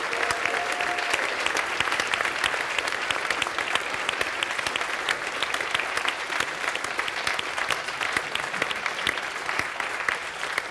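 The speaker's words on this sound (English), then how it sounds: "So one more round of applause, please, for our winner, Sharon" A large audience applauds the winner at the FameLab Ireland 2018 final, with dense, even clapping that holds steady and loud for the whole stretch.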